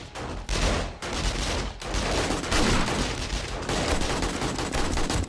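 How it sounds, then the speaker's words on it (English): Automatic gun turrets in the video game 7 Days to Die, firing dense, sustained rattling gunfire that runs almost continuously at loud level with only brief dips. "Look at my turrets doing their job."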